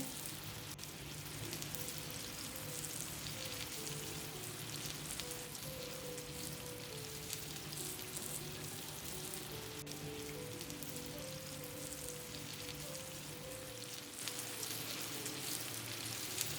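Lacha pakoras fry in hot oil over a medium flame, a dense, continuous bubbling sizzle that holds steady and close throughout, with a faint stir or clink near the end and no voices.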